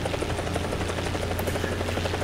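A helicopter in the War Thunder video game gives off a steady rhythmic rotor chop over a low continuous engine hum, loud and constant with no speech.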